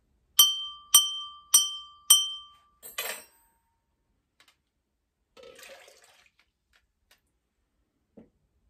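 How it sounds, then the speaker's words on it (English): A water-filled glass in a homemade water xylophone is struck four times in an even rhythm, each a bright ringing clink, followed by a short rattle and then near silence with faint handling sounds. "Listen to glass 1 before we take water out."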